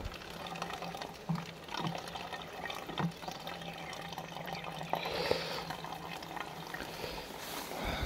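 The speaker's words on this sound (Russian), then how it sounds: "Бензинчика солью." Petrol pours and splashes into a container outdoors in a forest, a quiet, steady liquid trickle with occasional small knocks and clunks.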